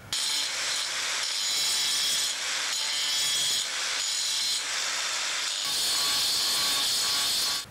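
An angle grinder cuts through solar panel glass and the rubbery layer beneath, down to the cells, a loud, close, continuous abrasive grinding that surges and eases without a break.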